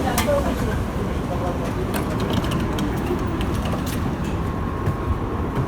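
Steady low rumble of a Kyiv tram rolling toward the Kurenivskyi Park depot, with faint rattling and occasional higher clicks throughout, fairly loud and continuous.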